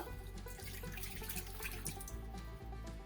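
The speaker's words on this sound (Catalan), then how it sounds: "Afegim els 200 grams d'aigua" Water pours steadily into a saucepan at close range as 200 grams are measured out for candied oranges in a home kitchen. A continuous splashing gurgle holds throughout, with no talking.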